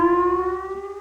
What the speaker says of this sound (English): Sirens and a system of emergency radios to warn people of escaping nerve gas